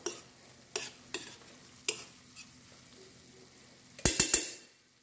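Kefta frying in a pan with fresh coriander and parsley, stirred with a utensil: sharp scraping strokes come at irregular intervals over a soft sizzle, with a quick cluster of louder scrapes near the end.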